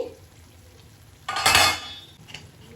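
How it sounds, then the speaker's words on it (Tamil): Thick tomato chutney stirred in an oily pan: a low background hiss, then one loud close scraping sizzle burst midway, followed by a fainter scrape, with no talk. "இப்போ நல்லா கிளறி கொடுத்துக்கோங்க"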